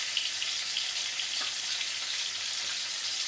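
Pieces of rohu fish frying in hot oil give off a steady, dense sizzle with faint crackles, continuous and close, with no voices.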